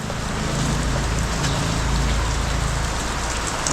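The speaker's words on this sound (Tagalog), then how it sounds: "Hindi titigil tong ulan na to." Heavy, steady rain pours down in a dense, unbroken hiss, loud and close throughout.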